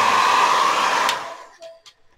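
A hair dryer blows a loud, close, steady airy whoosh that is switched off partway through and quickly fades, followed by a few faint knocks and clicks.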